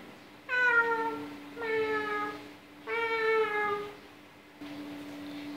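A person's voice imitates a cat, giving four drawn-out, nasal meows in an even rhythm with short pauses between them, close and clear over a faint steady hum.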